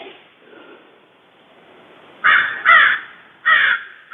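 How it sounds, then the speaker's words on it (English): A crow gives three loud, close caws in quick succession, the first two almost back to back, breaking an otherwise quiet outdoor stillness. "You can hear the crows."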